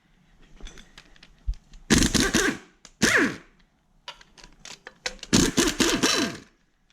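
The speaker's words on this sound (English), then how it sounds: "And then out with the rattle gun." A rattle gun removing exhaust manifold bolts on a Lexus LS400, heard close in several loud, harsh hammering bursts of about half a second to a second, separated by quieter pauses.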